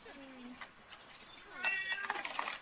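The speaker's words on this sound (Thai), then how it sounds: "ทุกคนได้ยินเสียงแมวไหมคะ" A house cat meows nearby, a couple of short falling mews early on followed by more calls mixed with brighter game sounds; no speech is heard over it.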